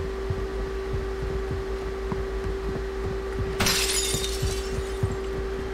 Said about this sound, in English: Are you breaking glass?